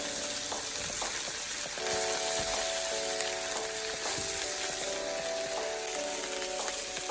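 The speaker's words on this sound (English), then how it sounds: "Now I'm going to add in the rest of the broccoli rabe." Broccoli rabe frying in a pan gives a steady, soft sizzle throughout, with scattered clicks and light scraping of stirring over a faint continuous hum.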